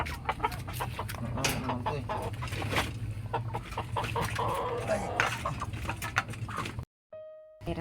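Chickens, a hen and a rooster, clucking close by in a steady stream of short, repeated calls, with a low background hum and a person talking intermittently.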